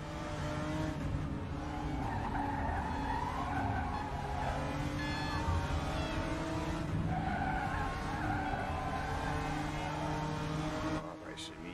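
A BMW race car in RaceRoom skids and slides with loud, sustained tyre squeal over a droning engine, wavering in pitch throughout, close and continuous, with faint talk underneath.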